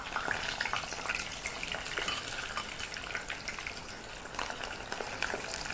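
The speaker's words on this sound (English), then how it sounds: "as soon as you actually hear that sizzle, proceed to add the rest" Arrowroot pieces fry in hot oil with a dense, crackling sizzle, continuous and close, with faint pops and spatters throughout and no talking.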